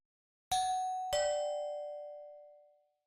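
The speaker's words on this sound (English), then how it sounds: "The sound of the doorbell broke the still moment." A doorbell rings alone with two clear chime tones in quick succession, the second tone ringing out and fading slowly into silence.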